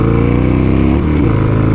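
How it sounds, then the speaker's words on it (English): A Harley-Davidson Sportster Iron 883 with an FP3 tune idles loudly and close, with a steady low, throbbing rumble and a slight dip in revs midway. "I'm loving this idling sound"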